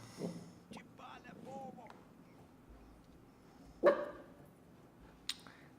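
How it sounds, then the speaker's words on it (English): A single sharp dog bark bursts out near the middle, close and loud, during a board game stream, with quieter murmuring voice sounds before it and a faint click afterward. "that was my dog contributing to this stream."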